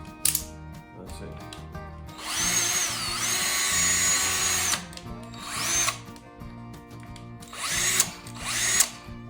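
A Bauer cordless power drill whirs in several bursts, a long steady run in the middle and shorter pulls before and after, with clicking and handling between them, close and loud.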